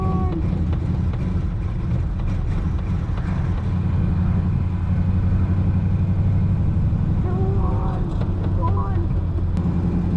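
The rebuilt engine of a 1934 Ford Coupe runs rough and low, with the choke partly pulled, and a steady rumbling idle continues throughout while a person talks close by over it.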